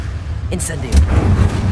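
A fire spell cast in the video game Hogwarts Legacy, a brief whooshing burst followed by a low rumbling blast, with a voice speaking over it.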